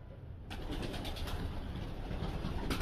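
Modena pigeons in a breeding loft, a steady low murmur of cooing and shuffling birds fills the space close by, with no talking.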